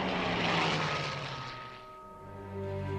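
Engine of a Hawker Hurricane fighter plane from the Second World War roars loudly, then eases into a steadier droning hum with a tonal whine, continuous and close.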